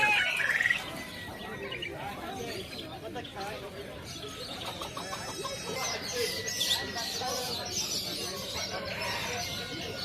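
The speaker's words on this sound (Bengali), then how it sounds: "এই যে হচ্ছে বাংলাদেশি শালিক" Bangladeshi myna birds chirp at a bird market in Kuwait, a busy mix of chirps, calls and coos from many caged birds, with people talking nearby.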